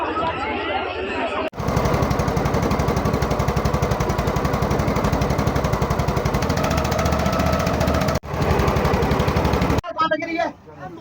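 A motor boat crosses the Yamuna river, its engine pounding in a loud, rapid rhythmic chug that runs almost continuously, broken by short cuts, with voices and chatter audible around it.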